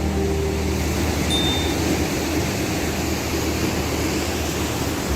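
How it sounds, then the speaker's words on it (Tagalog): Big ocean waves roll in at a beach near a lagoon in Northern Samar, Philippines, a steady, dense roar of surf that carries unbroken at an even, loud level throughout with no voices. "lalaki nga ng alon dito"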